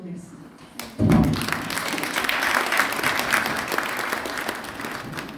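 An audience at an award evening in Brussels breaks into sudden applause after a brief pause, the dense clapping holding steady at a moderate level to the end.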